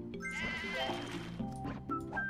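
Cartoon sheep bleat repeatedly in the mobile puzzle game Divide by Sheep, wavering cries layered over bright game music, fairly loud and close.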